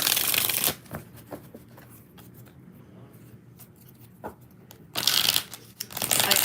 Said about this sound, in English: 3 more shuffles.